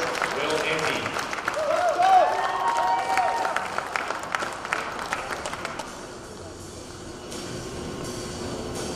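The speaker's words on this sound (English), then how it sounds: "let's give a round of applause" An audience applauds at the 2023 NCAA rifle championship, a dense wash of clapping that swells, then thins and fades, with a voice talking over it.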